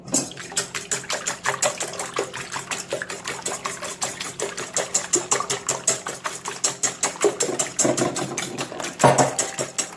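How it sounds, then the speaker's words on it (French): A whisk beats eggs in a bowl for a chocolate moelleux cake, making rapid, steady metallic ticking strokes at a brisk even rhythm throughout, close up with no talk. "Et tu vas les fouetter comme une omelette avec un fouet."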